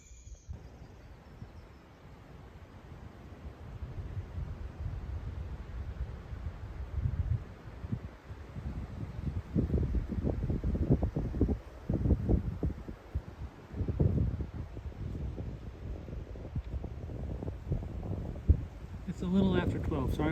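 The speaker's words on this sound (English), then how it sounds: "Sorry about the wind." Wind blows across the microphone on a mountain trail near Rockfish Gap, a steady low rumble with stronger gusts building midway and continuing throughout; no speech.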